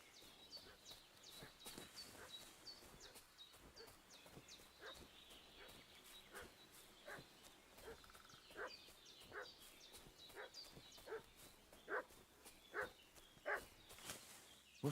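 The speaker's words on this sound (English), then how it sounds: "What's that dog making such a fuss about?" A dog barks repeatedly in the medieval game Kingdom Come: Deliverance 2, a string of sharp, fairly distant yaps over a low ambient bed with faint hoof clops and soft background noise.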